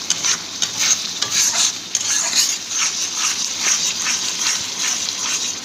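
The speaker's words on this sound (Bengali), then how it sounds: "এটাকে বলে তারু, তারু দিয়ে নাড়তে হয়।" A wooden paddle stirs a thick, hot jaggery sandesh mixture in a pan, giving close, rhythmic scraping and swishing strokes over a light sizzle, with no voices.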